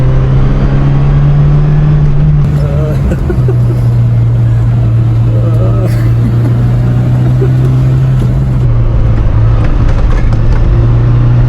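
A Suzuki Samurai pulls hard from 30 in third gear, its engine droning loud and steady from inside the cab with a slowly rising note and a brief shift in pitch partway through.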